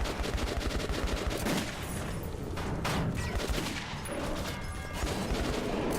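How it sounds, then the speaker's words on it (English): Rapid pistol shots crack repeatedly in the Metro 2033 Redux video game, loud and close in dense clustered volleys over a busy in-game background, with no talking. "make my shots count since I can kill these guys in one shot with a pistol"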